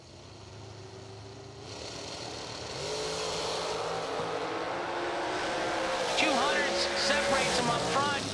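Drag race cars launch down the strip at a bracket racing event, their engine roar building and growing louder as they pull away, with voices faintly in the background.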